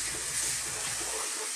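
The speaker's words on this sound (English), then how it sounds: "So let's just add a little bit of water." Water pours in a steady, close hiss into a pot of thickening beef stew (carne guisada) for about a second and a half, with no talking.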